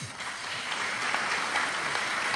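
Audience applause at a community meeting in Florida, a steady wash of clapping from a crowd at moderate distance, sustained without a break and without talk.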